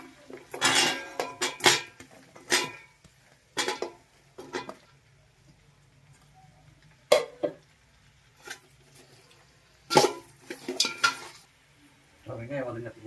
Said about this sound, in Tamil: பட்டர் உருகிடுச்சு. 1/2 கிலோ வெட்டி வச்ச வெங்காயத்தை சேர்த்துக்கலாம்.